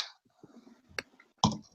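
A few faint, sparse key clicks from typing a spreadsheet formula on a computer keyboard, spaced irregularly in an otherwise quiet room.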